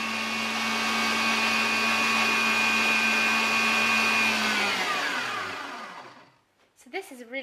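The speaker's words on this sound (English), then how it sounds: "Now I'm going to add the second half and whisk until it is nice and shiny." An electric mixer whisking meringue as the second half of the sugar goes in for a raspberry souffle, a loud steady whine that winds down and stops, followed by brief talking.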